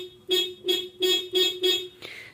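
A car horn, tested after repairing its orange horn wire, gives five short loud honks in an even rhythm, followed by a softer final click-like tone.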